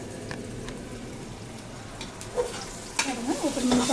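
Chopped onion frying in a pan for homemade chicken biryani gives a soft continuous sizzle, with a few louder crackles and stirring scrapes toward the end.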